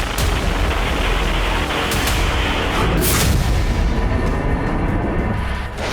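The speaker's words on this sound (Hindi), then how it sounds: "देखिए कैसे जोरदार आवाज के साथ उस इलाके में तबाही मच गई।" Missile strike on a Ukrainian city during the Russia–Ukraine war: a sustained, loud roaring blast with rumbling debris, a sharp burst near the middle and continuous heavy low-end rumble throughout, no voices.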